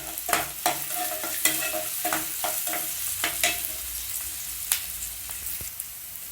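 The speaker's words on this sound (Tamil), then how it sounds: "ரெட் கொடமிளகாய் எடுத்துருக்கேன். வதக்கி விடுங்க." Red capsicum and onions sautéing in a pan for cauliflower Manchurian, with steady sizzling and repeated scraping stirs close up, no talking.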